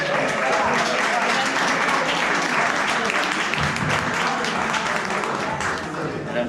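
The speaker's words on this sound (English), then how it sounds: "How about a round of applause for Chef Frank Turner?" A live audience at a chef demonstration gives Chef Frank Turner a full round of applause, dense and sustained clapping that stays loud throughout and eases slightly near the end, with a voice briefly heard over it.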